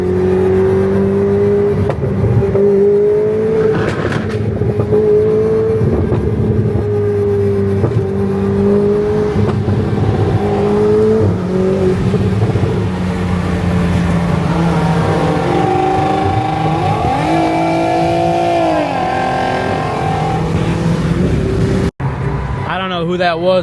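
A car driving along with its engine humming and rising in pitch as it accelerates, close and fairly loud, while someone talks over it.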